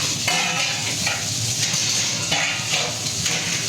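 Cumin and coriander powder sizzling in a hot pan for Bengali cooking, stirred continuously with a utensil that scrapes now and then, a steady close crackling hiss throughout.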